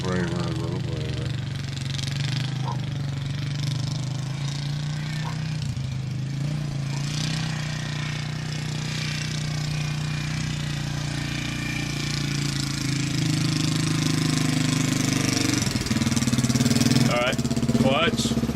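Honda XR600R dirt bike engine running at a steady low idle-like drone, moderately loud and continuous, with people talking over it.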